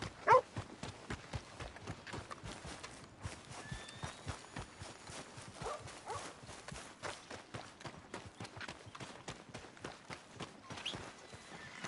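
Horse hooves in Red Dead Redemption 2 clop in a quick, steady rhythm, fairly faint and close, with a few slightly louder strikes and no talk over them.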